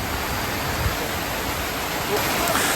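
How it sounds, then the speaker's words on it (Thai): Heavy rain pours down steadily in a village in Kasiro, Batang Asai, Indonesia, a loud, dense, unbroken hiss of falling water. "สำหรับฝนที่ตกวันนี้เนี่ยตกค่อนข้างที่จะหนักเลยทีเดียวนะครับ"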